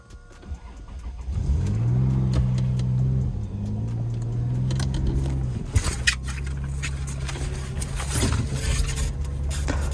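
A Lexus car engine idles and revs gently while being reversed into place, a steady low hum that swells after a brief start-up and carries on with small scrapes and knocks.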